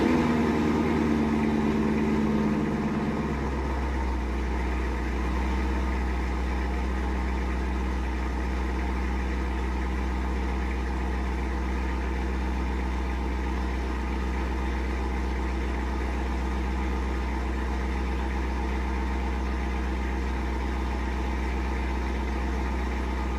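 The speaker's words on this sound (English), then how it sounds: "Let's see how this car sounds now with long tube headers, a Catless X-Pipe, and a Corsa exhaust." A C5 Corvette with long tube headers, a catless X-pipe and a Corsa exhaust idles on a cold engine, a deep steady rumble that settles after a brief higher-revving start and holds evenly and loud.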